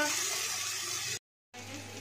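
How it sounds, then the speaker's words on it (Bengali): Cauliflower and potato frying in oil with green chilli, salt and turmeric, a close continuous sizzle cut by a short silent gap before it resumes, with no talk. "দিয়ে এটাকে ভালো করে ভেজে নিই"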